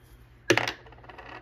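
Dice rolled onto a hard surface, one sharp clattering impact followed by a few quick rattling bounces that fade out, close and clear with no talking.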